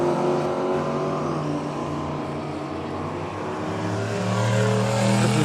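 An HT Holden drag car with a stroked 383 engine rumbles steadily at close range, a deep throbbing drone that holds loud throughout and climbs slightly toward the end.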